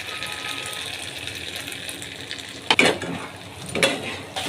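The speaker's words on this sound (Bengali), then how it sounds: "আমাদের বেশ একটা ভালোভাবে চিলি চিকেন তৈরি করা হয়ে গেছে ফ্রাই করে" Chicken frying in a pan for chilli chicken, a steady crackling sizzle close by, with two sharp metallic utensil clatters near the end.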